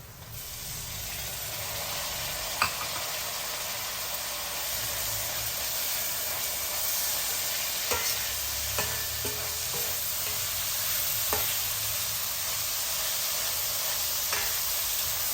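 Tomatoes frying in a pan for a Rayalaseema uggani bajji dish give a steady, close hiss of sizzling oil, broken by occasional scraping clicks of a spoon stirring at irregular intervals.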